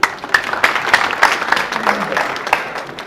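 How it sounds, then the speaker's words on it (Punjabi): An audience at a prize-giving gathering in Sharaqpur Sharif claps in a short burst of applause. Sharp individual claps stand out near the start, then thin out and fade over about three seconds. "ਇੱਕ ਵਾਰੀ ਤਾੜੀਆਂ ਫਿਰ।"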